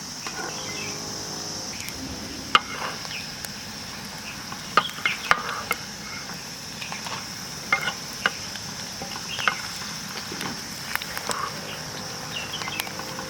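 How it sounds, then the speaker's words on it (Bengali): Fish roe fritters fry in oil while being stirred, a soft steady sizzle with intermittent clicks and scrapes of a spatula against the pan, fairly quiet and close, with a faint high background hum. "এবার আমি নেড়ে নেবো"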